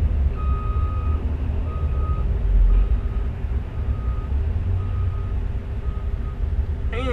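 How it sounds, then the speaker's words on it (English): A front loader beside a Peterbilt truck sends out steady, evenly spaced reversing beeps over a loud, continuous diesel engine rumble close by, with no talk. "That's a nice front loader too."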